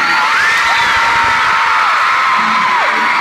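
A loud concert crowd at a show in Milwaukee cheers and whoops continuously, with high shrill yells rising above a dense roar of voices.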